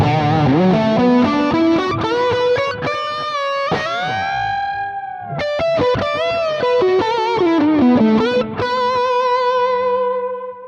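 An electric guitar through the lead channel of a Lone Star amp rings out with a distorted lead tone, sustained singing notes, bends and quick runs, a little echo trailing behind.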